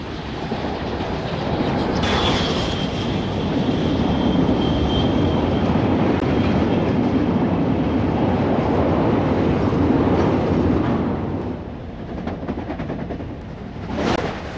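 A steam train runs along the rails at speed, giving a loud, steady rumble of wheels and motion that holds for most of the stretch, with a faint whistle-like tone early on, before easing off toward the end.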